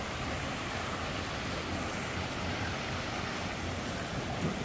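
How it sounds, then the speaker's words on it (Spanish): The large waterfall at Cascadas de San Antonio in El Salvador roars as a dense, steady rush of falling water, loud and unbroken throughout with no voices. "Miren qué gran cascada que tienen estos muchachos ahí."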